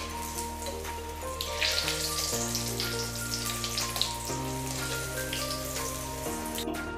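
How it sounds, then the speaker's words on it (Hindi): French fries cook in hot oil over a low flame, a soft crackling bubble under a steady tonal hum from the kitchen. "अब इसमें मैं डाल रही हूँ फ्रेंच फ्राई। लो फ्लेम पे फ्राई करेंगे।"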